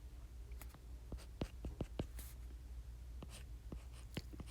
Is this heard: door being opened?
no